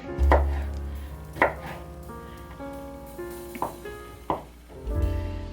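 Several sharp knife chops on garlic on a cutting board, spaced irregularly, close and distinct over a low background hum.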